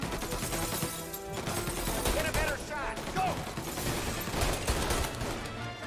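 Machine gun fire in the Mafia Definitive Edition video game, repeated bursts of rapid gunshots rattling through a busy mix of crashes and effects, moderately faint, with a voice speaking occasionally.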